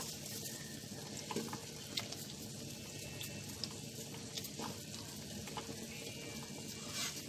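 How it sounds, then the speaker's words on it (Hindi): Yogurt masala being stirred and roasted in a pan for egg and peas gravy, a steady close sizzle with scattered scraping stir clicks throughout. "अब मैं इसको जो है अच्छे तरीके से मिक्स कर लेती हूँ।"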